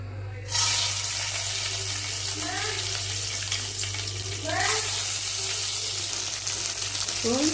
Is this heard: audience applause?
no